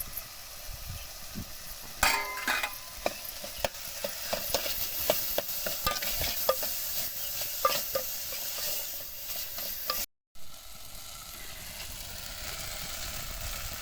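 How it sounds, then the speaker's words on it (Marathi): Onion masala with spices cooks in oil, a soft steady sizzle broken by sharp clicks and scrapes of a spoon stirring against the pan, close, with a short gap near the end. "सगळा मसाला आता तेला शिजला आता हो का कसं तेल सुटले बघा ह्याला चर चर चर तेल"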